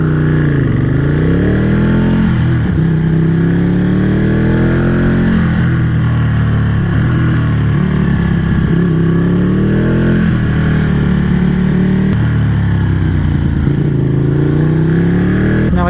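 A Ducati 1199 sportbike engine revs up and down repeatedly, a loud, close throaty roar rising and falling in pitch with no talking.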